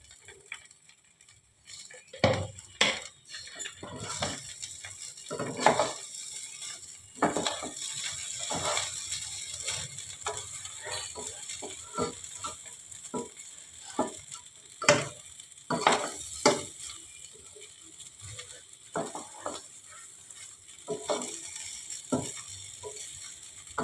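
Fried rice with a little ghee sizzles steadily in a pan while a spatula scrapes and stirs it in irregular strokes, the clatter of the utensil against the pan close and clear throughout.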